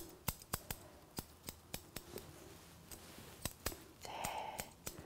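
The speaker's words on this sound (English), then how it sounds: "So just with the little scissors." Crisp metallic snips of small scissors trimming a dog's whiskers, a dozen or so quick cuts at an uneven pace, close by, with a short soft rustle near the end.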